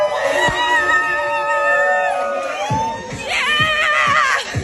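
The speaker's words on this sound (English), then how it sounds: "Listen to the crowd celebrating, then listen to the crowd like, hey, that's not your guy." A wedding crowd cheers and whoops in celebration, a loud continuous mass of voices, then the mood shifts partway through into a clamour of objection as guests react to the bride going to the wrong man.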